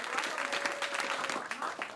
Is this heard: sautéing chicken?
no